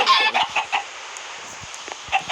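Chickens in the video game Minecraft cluck in short, separate bursts that come in an irregular rhythm, fairly close and clear against a quiet background.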